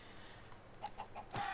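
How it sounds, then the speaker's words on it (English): Chickens clucking in a Minecraft-style survival video game, a few short, soft clucks spaced across a quiet moment, ending in a brief louder burst. "Now I'm going to kill some chickens so I can get feathers."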